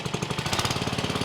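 An Ariens 624 snow blower engine runs at a steady fast idle after carburetor reinstallation, close and loud, with a rapid even chugging pulse throughout and no talk.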